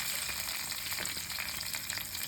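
Mint, cumin and fennel go into hot oil for a green peas masala gravy, making a continuous, fairly quiet frying hiss with light crackles and no talking.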